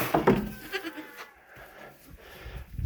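Goats on a farm bleat several times in quick, uneven bursts at moderate distance, mixed with rustling and handling noise outdoors.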